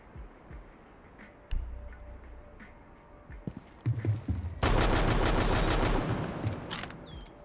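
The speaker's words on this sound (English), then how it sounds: "Most people are going to be shooting this shotgun like this. And the hip fire." Shotgun hip fire in the video game Rainbow Six Siege: a few sharp low blasts early, then a loud dense burst of gunfire and clatter from about four and a half seconds on, heavy and close with no talking.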